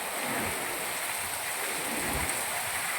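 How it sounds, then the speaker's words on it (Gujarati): Heavy, continuous rain falling steadily during a Gujarat monsoon downpour, with strong wind adding a broad, even rushing hiss that holds without a break from start to finish. "એક ધારો વરસાદ ચાલુ છે અત્યારે"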